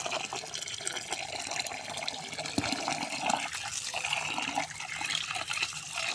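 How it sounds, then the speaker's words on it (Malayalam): Water pours into a bowl of washed rice set to soak, a steady close splashing and trickling stream with small gurgles and drips. "വെള്ളമൊഴിച്ച് കുതിരാൻ വയ്ക്കാം"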